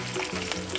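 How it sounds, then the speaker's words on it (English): Beyond Italian hot sausage and Beyond meatballs fry in a pan, giving a close, steady sizzle with soft crackles and a brief stirring scrape. "And I'm frying them up just to give them color."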